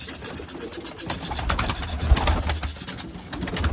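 Pigeons cooing and fluttering inside a Turkish home loft as the birds are handled and taken out, a steady rhythmic cooing with soft wing rustles close by.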